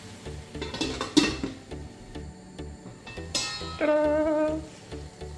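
A metal lid set onto a cooking pot of soybean in a home kitchen, a couple of sharp clanks and a ringing metallic clatter near the mic, with faint background music and kitchen noise.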